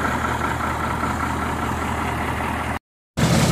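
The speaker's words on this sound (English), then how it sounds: "Got a slight exhaust leak." A semi truck's engine idles steadily in cold, snowy weather, a deep continuous rumble with a slight exhaust leak, cutting out for a moment near the end before resuming.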